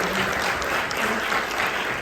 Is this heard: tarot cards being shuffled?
no